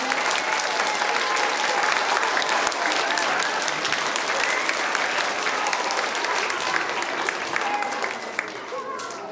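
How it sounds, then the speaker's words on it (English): Audience applause at a school nursery-rhyme performance, a dense, steady wash of clapping from a large crowd that carries loud throughout and eases slightly near the end. "a huge round of applause for Mr. Rigby, our music teacher and director."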